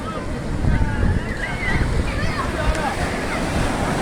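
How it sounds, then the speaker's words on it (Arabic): Mediterranean Sea surf on the Egyptian coast at Gamasa, with waves washing continuously and strong wind buffeting the microphone, loud and close throughout; faint voice-like tones drift over the roar. "إذن هذا هو البحر المتوسط،"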